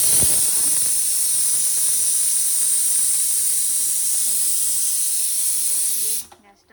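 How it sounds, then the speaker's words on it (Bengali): Fish curry boils on a gas stove with a loud, steady, bright hiss that runs unbroken for about six seconds, then cuts off abruptly into near silence. "এই যে গ্যাসটা একটু ফুটিয়ে দিই।"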